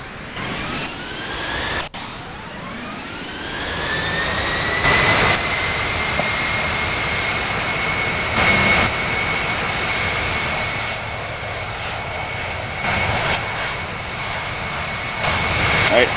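Airbus A320 jet engines spool up for takeoff in the Infinite Flight simulator game, a loud, continuous roar with a whine that climbs and then holds at a steady high pitch.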